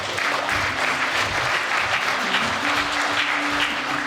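A warm round of applause from the audience at an outdoors hall-of-fame induction ceremony, dense and steady throughout, with faint voices murmuring underneath.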